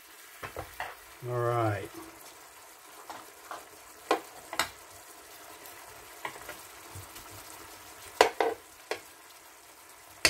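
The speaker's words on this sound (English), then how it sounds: "Now, you probably want to let this cook a little bit to thicken up the sauce." Sauce cooking down in a pan, a soft continuous sizzle broken by sharp clinks and scrapes of stirring, with a brief spoken remark early on.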